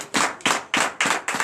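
Congregation at a night deliverance prayer service clapping together in a steady rhythm, five sharp unified claps roughly a third of a second apart, close and fairly loud with no voices.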